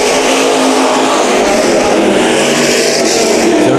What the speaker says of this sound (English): in these IMCA stock cars.